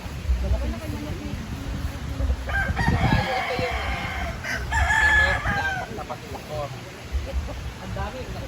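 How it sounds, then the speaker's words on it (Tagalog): Chickens cluck and a rooster crows in the middle, amid outdoor farmyard noise with people talking nearby. "ang dami pala niyang mga manok"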